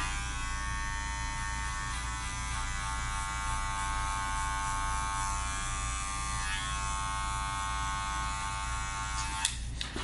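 Electric hair clippers, run with the blade open, cut hair during a taper haircut, giving a steady, close, continuous buzz with no talking.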